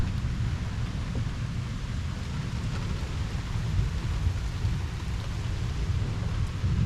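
A severe, highly electric thunderstorm over Liège, Belgium, with a constant heavy roar of rain and low rumbling, loud and unbroken with no voices.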